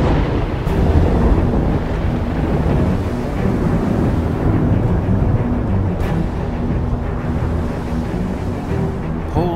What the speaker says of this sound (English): However, they ran into a storm.